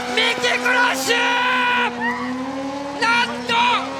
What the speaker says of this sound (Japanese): 三木クラッシュ